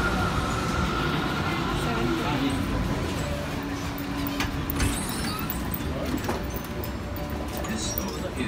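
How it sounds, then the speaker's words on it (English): Inside a Melbourne tram, a steady rumble and rattle of the car rolling along the rails carries on throughout, with people talking over it. "So ito yung tram nila."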